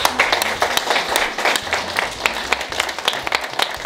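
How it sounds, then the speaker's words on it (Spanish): An audience claps for itself at a gathering of women rondas in Cajamarca, Peru, in a lively, fairly close round of steady applause with a few sharper individual claps standing out. "creo que ustedes se merecen un buen aplauso para ustedes mismos."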